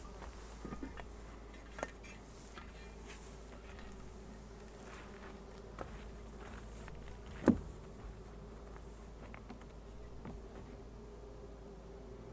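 Honeybees buzz faintly inside a hive feeder, a low continuous drone with soft scattered ticks and one brief sharper knock partway through.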